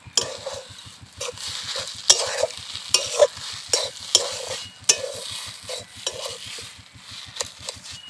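Grated mankachu (giant taro) with torn gondhoraj lemon leaves gets stirred in a frying pan, a steady rhythmic scrape-and-tap of the spatula over a soft sizzle, with occasional sharper clinks.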